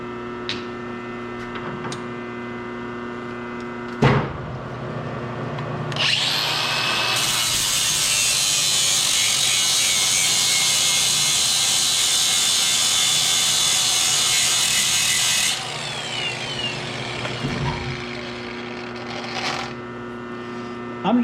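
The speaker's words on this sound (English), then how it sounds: "I'm doing this on a lathe," Lathe smoothing the blocks of a block-type limited slip differential for a Getrag F23 transmission: a loud continuous grinding rub lasting about ten seconds over a steady motor hum, with clunks before and after.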